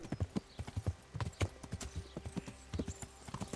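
Rapid horse hooves clip-clop in a quick, uneven rhythm, close and continuous, with a faint game backdrop, from the video game Kingdom Come: Deliverance.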